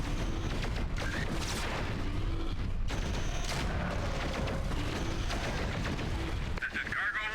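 Mech weapons fire in the MechWarrior 4 video game, a dense run of booming, crackling gunfire and blasts under steady combat noise, with voices talking over it.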